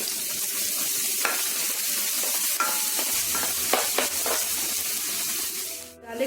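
Cut garlic frying in hot oil for chilli chicken makes a bright, steady sizzle with scattered sharp pops and stirring clicks, close and continuous, fading briefly near the end.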